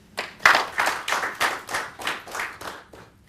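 A workshop audience applauds as a session closes, a brief burst of clapping that swells in regular waves, steady and fairly close, with no talk over it.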